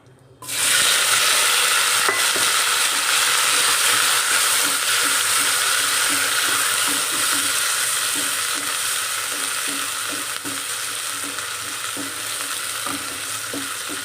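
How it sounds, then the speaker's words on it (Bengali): Cabbage with potatoes, tomatoes and green chillies is stir-fried after cumin in a hot pan, giving a loud, steady sizzle and hiss close by, with soft rhythmic stirring taps throughout and no talking. "এভাবে নাড়াচাড়া দিয়ে হালকা একটু ভেজে নিচ্ছি।"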